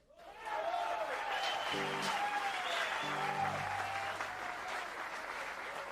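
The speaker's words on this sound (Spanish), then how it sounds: "quiero pedir un fuerte aplauso" A crowd applauds at a live norteño music show, a broad, continuous wash of clapping heard from a distance, with faint tones from instruments sounding briefly beneath it.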